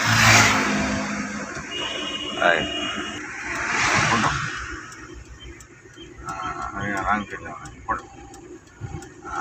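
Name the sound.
car engine accelerating in second gear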